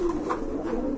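Pigeons in breeding mode coo in a low, continuous murmur inside a loft, close and steady for a moment with no voices.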